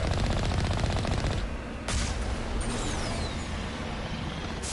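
Mass Effect gunshot, a rapid close volley of shots followed by a single sharp report near the two-second mark, then a fading hiss and game ambience.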